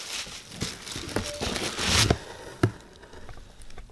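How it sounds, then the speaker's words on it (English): A Walmart plastic bag crinkles and rustles up close as sports cards are unpacked from it, in a run of irregular crackling bursts with a couple of sharper snaps, and no voices. "We literally got all these cards shipped in a Walmart bag"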